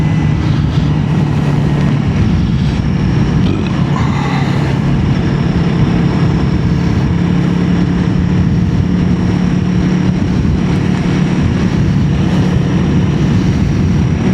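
A Honda CRF300L motorcycle fitted with Supermoto wheels is ridden, its engine a continuous loud drone mixed with heavy wind rush and road roar, steady throughout with no talk.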